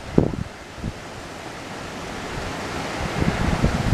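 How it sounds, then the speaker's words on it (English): Ocean waves on the calm side of Aruba wash as a steady broadband rush mixed with wind buffeting the microphone, with a few low thumps at the start and a gentle swell toward the end. "This is the calm side of the ocean."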